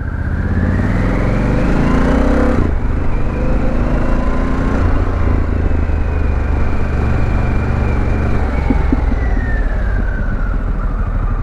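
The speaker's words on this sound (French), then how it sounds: "ça glougloute, ça pétarade, on n'a pas potato, mais on sait où on est. On est sur une Harley" A Harley-Davidson Pan America motorcycle engine rumbles steadily and loudly up close with a deep, continuous burble, shifting pitch partway through as it revs and settles.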